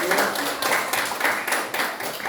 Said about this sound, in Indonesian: tepuk tangan untuk Fernando yang sudah menambahkan.